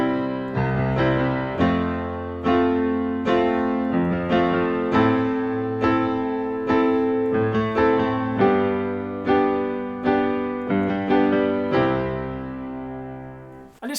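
Basic piano chord progression played with a rhythmic hand technique: repeated chord attacks pulse in a steady, bouncy pattern, each chord sounding clearly and alone with no talking.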